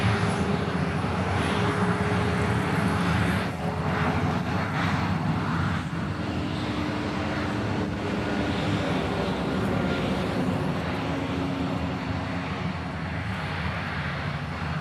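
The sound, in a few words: military jet aircraft departing, Sentry Aloha exercise Hawaii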